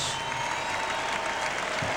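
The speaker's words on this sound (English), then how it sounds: "Nice round of applause as Augustine, Smith," A college basketball arena crowd applauds departing seniors during an Ohio State versus Illinois game. The applause is a steady, full wash with no break for two seconds.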